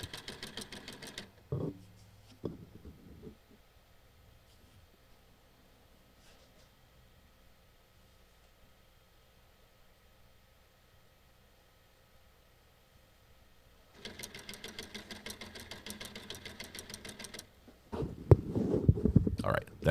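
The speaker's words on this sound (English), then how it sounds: "The like counter is making the sound." A live stream like counter gives off a buzzy, machine-like whir, similar to a serger sewing machine starting up. Two bursts of a few seconds each stand out against a quiet background, with the second one ending in a louder rumble.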